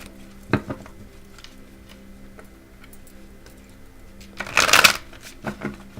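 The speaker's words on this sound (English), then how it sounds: "get a better view of me shuffling and how I shuffle" A deck of cards is shuffled on a small table, with soft ticks and riffles followed by a loud, brief riffling burst and a few taps.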